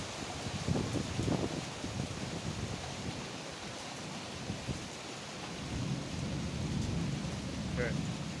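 Steady, heavy rain hisses throughout during a thunderstorm, with low rolling rumbles of thunder that swell and fade.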